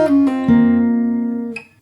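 Fingerstyle acoustic guitar playing a quick song phrase, a few rapid plucked notes including a pull-off, then a sustained ringing note that fades, close and loud.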